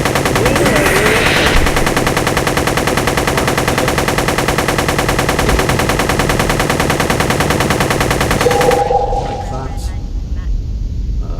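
Rapid sustained automatic gunfire from ships in the space combat game MS Allegiance, loud and continuous for about nine seconds, then cutting off to quieter game ambience.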